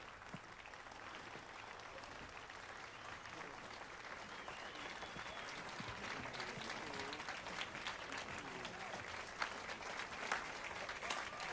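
Crowd applause from The Witcher 3: Wild Hunt swells into steady, dense clapping from many hands, building slightly louder across the stretch, with faint voices mixed in.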